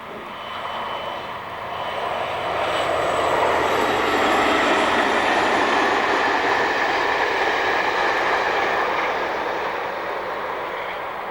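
A CrossCountry passenger train, the 12:20 Brighton to Edinburgh, passes on a British line in 1999, its steady rushing roar swelling to a loud peak and lingering as it runs by, with no voices.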